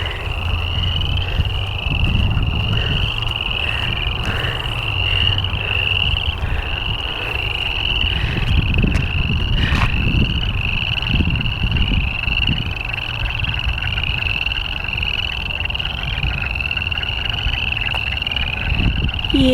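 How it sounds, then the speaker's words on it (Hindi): Dense chorus of frogs croaking at night in Canada, a continuous layered chatter of many calls with a steady high trill running over low, pulsing croaks, loud and unbroken. "अब ये पता नहीं किस चीज़ की आवाज़ें हैं, मेंढक है या फिर कोई और जानवर"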